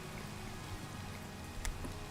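Soft, steady patter of rain falling in the Minecraft video game, a faint even hiss with a few sharper drops and no talking.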